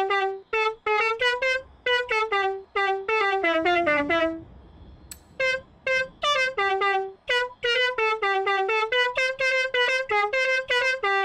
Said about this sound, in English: it's the only one where you can customize your horn to sound like this